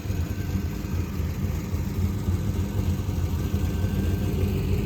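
A 2002 Pontiac Trans Am WS6 with an aftermarket cam idles steadily nearby, a smooth low rumbling engine burble with an even pulsing rhythm and no talking.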